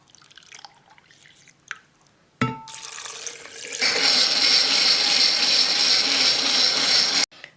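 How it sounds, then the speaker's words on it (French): Liquid poured through a strainer for homemade natural food colouring, a brief clatter then a steady close splashing stream that runs for several seconds and cuts off sharply. "Donc je vais commencer à filtrer."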